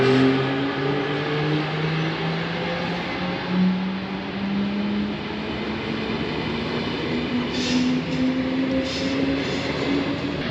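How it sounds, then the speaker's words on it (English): Onboard a Swiss train heading to Altdorf, a steady rumbling ride with a rising motor whine that climbs gradually in pitch, plus rhythmic wheel and carriage noise, continuous and close. "So we're going to go about a 2-hour train ride to get to Altdorf"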